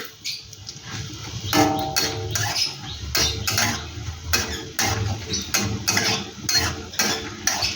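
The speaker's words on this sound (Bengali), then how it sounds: "বড়িটা একটু ভেজে নেবো হালকা করে" Lentil dumplings (bori) frying in oil in a wok, giving a steady close sizzle broken by scraping and clinking stirs against the metal pan, with no talking.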